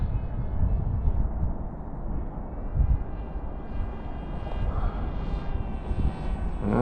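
Sonic Model 1200 RC airplane in flight just after launch, its motor giving a steady, moderately loud buzzing drone that holds throughout with slight swells, heard alone.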